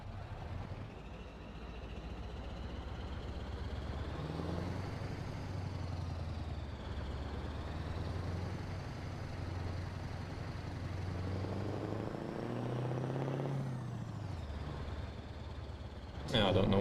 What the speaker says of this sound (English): I'm in the Next Gen Scania Torpedo by Jon Ruda.